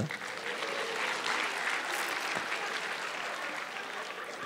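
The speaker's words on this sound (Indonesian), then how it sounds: "Tepuk tangan untuk Bapak Panji Pragiwaksono." Audience applause for Panji Pragiwaksono, a stand-up comedian and rapper, at a comedy show, steady and full from a sizable crowd throughout.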